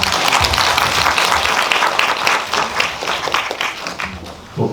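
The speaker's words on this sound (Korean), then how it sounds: "큰 박수 부탁드리겠습니다." Sustained, dense applause fills a cinema audience gathered for a post-film talk with a cat veterinarian, steady and loud throughout with no voices over it.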